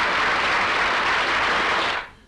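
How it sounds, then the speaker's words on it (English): An audience in a comedy scene bursts into loud, dense, continuous applause that holds steady for about two seconds and then cuts off abruptly. "You may applaud now."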